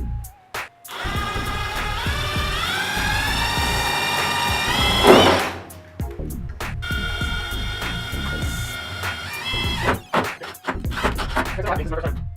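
A power drill whirs up in a rising whine, driving a screw during bathroom ductwork installation with a brief strained burst, then runs again after a pause, with low thumps and movement around it.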